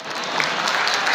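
Brief burst of applause from an audience at a religious lecture, a dense, even wash of many hands clapping at moderate loudness.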